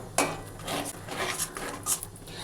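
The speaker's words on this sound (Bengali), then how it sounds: "দিয়ে এবার পুরটা ততক্ষণই নাড়বো যতক্ষণ না পর্যন্ত একটু শুকনো হয়ে আসছে।" A spoon scrapes and stirs a spiced green pea filling in a wok as it dries out. Several short, close metallic rasps and scuffs come in quick succession.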